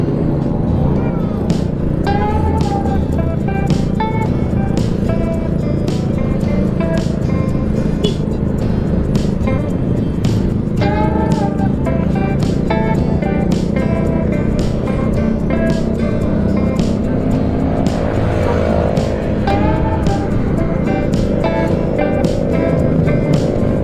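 A touring motorcycle's exhaust on a mountain road ride, a continuous loud engine drone with steady low rumble and repeated sharp ticks and clatters, close to the microphone and filling the whole stretch without a break.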